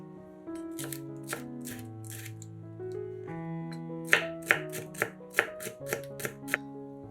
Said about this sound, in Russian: Перец нарезаем небольшими кубиками.